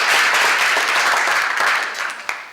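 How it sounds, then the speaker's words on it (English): A youth summit audience breaks into loud, close applause, thick with overlapping claps throughout, easing slightly at the end. "clap for that"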